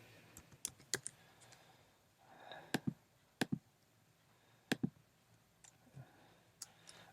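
Clicking and typing on a computer keyboard come through quietly as sparse, irregular clicks and keystrokes, some in quick pairs, over a faint background hum.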